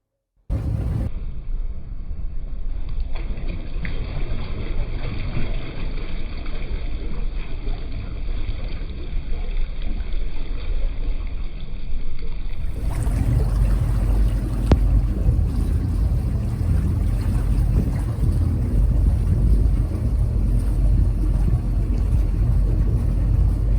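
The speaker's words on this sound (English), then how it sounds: "I'm going to put both engines in gear just briefly" Both engines of the motor vessel, tied at a dock, rumble at a steady idle, then churn louder and deeper as they are put into gear, a continuous close low drone with water wash and no talk.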